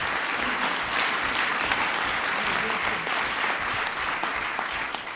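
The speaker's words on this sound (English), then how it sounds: "give him a round of applause" An audience at an event marking the Disabilities Act anniversary gives a sustained round of applause for Senator Tom Harkin, loud dense clapping throughout with faint crowd murmur underneath.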